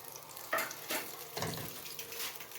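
Sugar melting and cooking in oil for egg makhandi halwa, a soft sizzle with a few stirring scrapes around the start and middle, fairly quiet and close with no talk.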